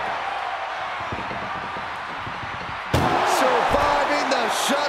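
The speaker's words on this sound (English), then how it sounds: "Struggle just to shut that first door." An ambulance door slammed shut during a wrestling match: a sharp loud bang cuts through steady crowd noise near the middle, followed by louder arena roar as a commentator keeps talking.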